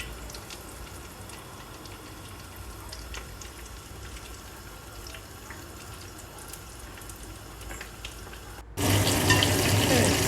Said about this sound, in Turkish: kızarıyor şimdi peynirlerimiz